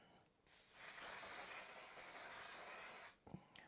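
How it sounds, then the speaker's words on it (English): One long, steady hiss of makeup setting spray misting out, lasting a few seconds, close and soft, then a couple of small clicks after it stops. "with our trusty One Size Until Dawn setting spray"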